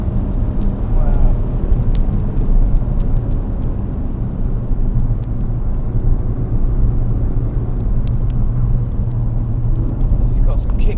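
Ford Focus RS at speed on the Goodwood circuit, a loud continuous engine roar and road rumble heard from inside the cabin, with a person talking over it.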